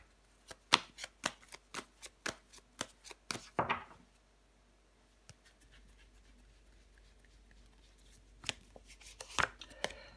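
Tarot cards being laid out and tapped down: a run of crisp separate slaps and flicks at first, then a quiet stretch, then a few more card taps, close and soft.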